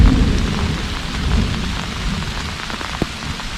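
Heavy rain pours steadily in the Canadian wilderness with a low rumble of thunder rolling underneath, dense and continuous, easing slightly toward the end.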